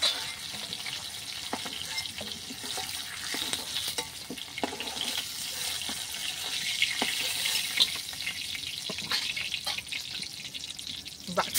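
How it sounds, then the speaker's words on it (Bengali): Snakehead fish frying lightly in oil, a continuous crackling sizzle with scattered pops and occasional stirring or splashing, close and steady without speech. "বাকি মাছগুলো ভেজে নিচ্ছি।"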